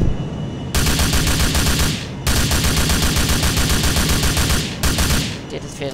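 Rapid automatic fire from an M4A1 rifle with ACOG sight and grenade launcher in a GTA IV Medal of Honor weapon mod, three loud sustained bursts separated by brief pauses.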